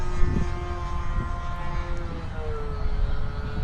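A 1.5 m BNF Maule M-7 radio-controlled model airplane drones steadily overhead during its maiden flight, its electric motor and propeller holding a continuous tone that shifts in pitch slightly as the throttle is adjusted, with faint wind noise around it.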